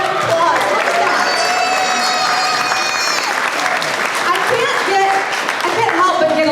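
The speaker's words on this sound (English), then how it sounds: "Can we give it a round of applause?" An audience celebrating the 125th birthday of the Livermore Centennial Bulb gives a loud, sustained round of applause, dense close clapping with cheers and whistles mixed in, voices calling out throughout.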